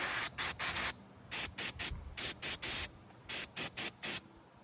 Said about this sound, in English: I am going to get a little bit of the electric cleaner